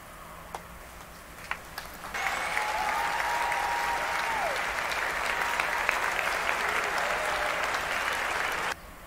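Sustained applause from a group swells in after a quiet start and holds steady at moderate level for several seconds before cutting off abruptly near the end.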